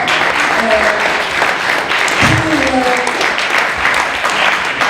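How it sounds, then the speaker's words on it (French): A crowd at a support evening for Boualem Sansal claps for Arnaud Benedetti. The applause is even and sustained throughout, with faint voices and brief tonal calls mixed into the clapping. "et on peut l'applaudir"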